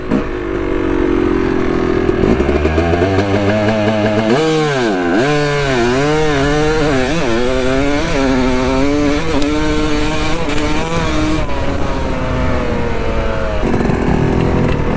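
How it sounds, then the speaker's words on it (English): Four-wheeler ATVs rev hard on a dirt drag strip at Busco Beach, a loud, continuous engine snarl that rises and falls in pitch as throttles open and ease off, filling the whole stretch with no talk. "Everyone just out here on their four-wheelers. Let's do a little drag strip run."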